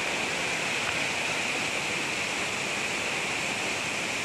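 Constant rushing roar of the Sikarim waterfall in Wonosobo, a broad steady wash of noise with no breaks.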